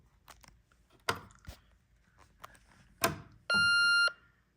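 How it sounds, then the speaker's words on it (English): A Radionics D8112 alarm panel sounds its watch tone, a steady high-pitched electronic beep, once for about half a second, loud and clear, after a few soft clicks and knocks as a door opens. "Just a high-pitched beep."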